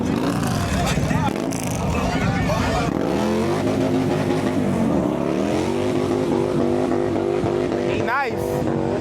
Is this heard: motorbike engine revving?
yes